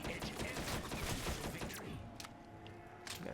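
Gorgon weapon firing in Black Ops 3 Zombies on the Revelations map, a dense, loud burst of heavy gunfire with crackling impacts that eases off into quieter ambience and a couple of later shots.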